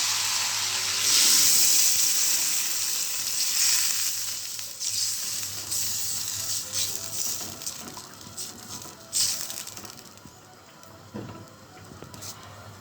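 Water poured onto frying rice and vermicelli for Egyptian koshari hisses and sizzles loudly at first, then settles into a steady bubbling sizzle with occasional stirring clatter, close by and with no talk.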